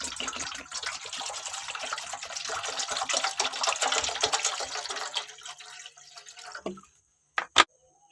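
Water pours into a pot for boiling chow mein, a steady, close splashing gush that thins out, stops, and is followed by a couple of sharp knocks.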